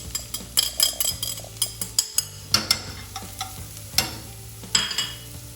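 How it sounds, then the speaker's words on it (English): Corn oil sizzles steadily as onions fry in a pan while a utensil stirs with repeated scraping clacks and occasional metallic clinks, close by and busy. "I put just normal corn oil and onions."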